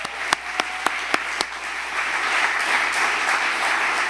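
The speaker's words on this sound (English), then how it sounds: "I want to give one more round of applause" An audience at an annual meeting applauds, a few distinct claps at first, then a broad, sustained wash of clapping from many hands.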